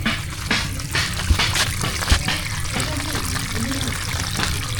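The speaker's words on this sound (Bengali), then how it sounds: "এই যে পানি চলে আসছে দেখেন।" Water flows out and trickles steadily from an outdoor source in a village, a continuous splashing wash with people talking nearby over it.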